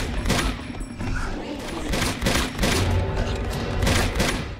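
Rapid gunfire bursts in Uncharted 2, loud, close and dense volleys repeating across the stretch with brief gaps between them.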